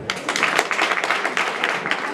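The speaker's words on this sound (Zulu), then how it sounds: "ngicela nishayele ihlombe" Applause at a primary school farewell ceremony for a teacher, a steady crowd of many hands clapping close and loud throughout, with voices mixed in.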